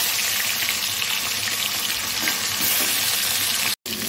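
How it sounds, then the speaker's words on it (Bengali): Fish pieces fry slowly in hot oil in a home kitchen for a light vegetable-and-fish curry, giving a steady, close hiss and crackle that holds evenly throughout and cuts off briefly near the end. "ধীরে ধীরে ভেজে নেব মাছগুলো।"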